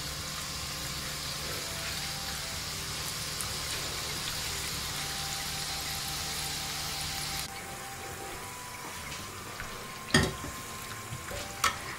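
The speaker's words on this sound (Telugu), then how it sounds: "ఇప్పుడు మనం కట్ చేసుకున్న వాటిని కొద్ది కొద్దిగా వీటిలో వేసుకుని ఎర్రగా వేయించేసుకోవాలి" Wheat flour snack pieces deep fry in hot oil with a dense, steady bubbling sizzle that suddenly thins out partway through, followed by a few sharp clinks of a utensil close by.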